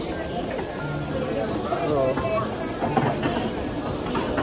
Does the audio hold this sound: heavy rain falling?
no